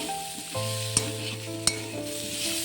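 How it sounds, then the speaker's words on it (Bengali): Soy chunks and potatoes frying in spiced oil, a steady sizzle under a continuous low hum, with two sharp utensil taps against the pan. "মশলাটা তেল ছেড়ে দিয়েছে। সয়াবিন আলু দিয়ে ভালো করে কষিয়ে নিচ্ছি।"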